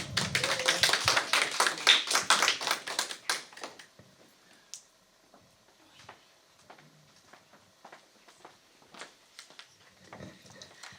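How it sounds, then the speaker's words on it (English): Clapping from an audience at a Woman's Day 2020 event, a dense burst of hands for about four seconds that then thins to a few scattered, quieter claps. "big clap for Sangeeta"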